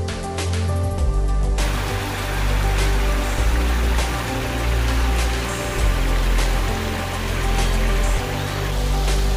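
Mill Creek in Keehner Park, West Chester Township, flows with a continuous, loud, close rushing and babbling of water that carries on without a break and with no voices.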